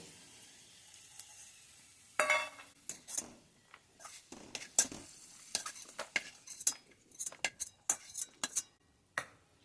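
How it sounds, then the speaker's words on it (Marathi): Fried cashews and raisins in ghee spooned onto a steel plate: sharp metal clinks and scrapes of spoon against pan and plate in irregular bursts, with faint sizzling underneath. "आता हे मी एका ताटलीत काढून घेते"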